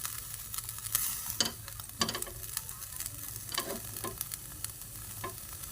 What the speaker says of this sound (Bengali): উল্টিয়ে একটু পুড়িয়ে নেবেন।